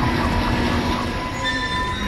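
Tram car moving along its track in the sci-fi horror game Dead Space, a steady rolling rumble with faint metallic squeals and whine running throughout, with no talk.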